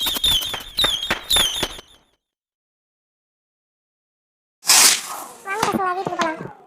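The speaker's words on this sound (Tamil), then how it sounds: "பட்டாசு வெடிக்கும் போது ஓரமாக நில்லுன்னா பத்திரமா வெடி" Cartoon Deepavali firecrackers burst in quick, sharp crackling volleys, a pause of silence, then another loud burst followed by more rapid pops.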